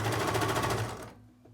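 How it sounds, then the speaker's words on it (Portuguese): Sewing machine stitching the side seam of a viscose fabric garment, a rapid steady mechanical chatter up close that stops abruptly about two-thirds through, leaving a faint hum. "Vou costurar ele todinho, a lateral toda, porque minha manga já foi colocada."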